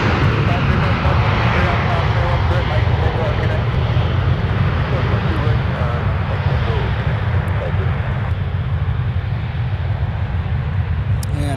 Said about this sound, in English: And now touching down from Nashville